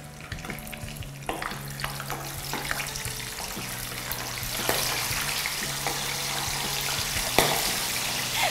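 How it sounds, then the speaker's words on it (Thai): Catfish pieces sizzle and crackle steadily in hot oil over medium heat, with a continuous close frying hiss, scattered pops and occasional clinks and scrapes of a utensil against the pan. "แล้วก็ใช้ไฟปานกลางแล้วก็นำลงทอดได้เลยค่ะ"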